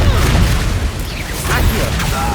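Spell blasts in the game Hogwarts Legacy: loud, rapid booming bursts and crackling impacts packed closely together, with a voice shouting amid them.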